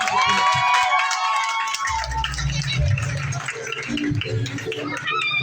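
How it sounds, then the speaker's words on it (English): A primary school graduation audience cheers and applauds, with shouts, high whistles and clapping mixed into a loud, busy crowd noise and a brief voice underneath. "Give them a round of applause."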